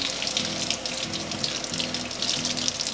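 Tap water runs steadily and loudly into a sink while a puppy is rinsed off during a bath at home, a continuous close splashing gush with a low rhythmic hum beneath.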